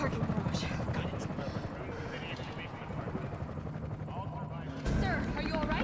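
A helicopter in Resident Evil 3 gives a continuous rotor drone mixed with game noise, and voices talk over it throughout.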